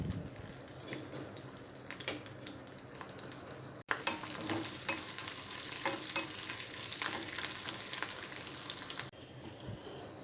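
Tempering of seasoning seeds, garlic and dried red chillies frying in hot oil in a pan on a stove, a dense, crackling sizzle with frequent pops and stirring, steady and close throughout, with no voices.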